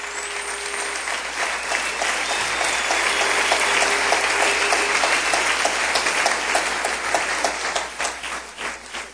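A church congregation claps in welcome, a sustained, even wash of many hands that swells and then begins to taper off near the end, with a few faint voices underneath.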